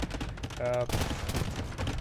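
Hand cannons fire in a strategy video game battle as a quick cluster of overlapping cracks and booms, with a commentator talking over the brief clash.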